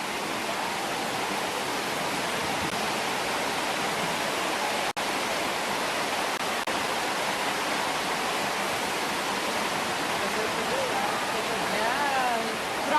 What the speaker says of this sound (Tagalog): Grabe yung ulan yun.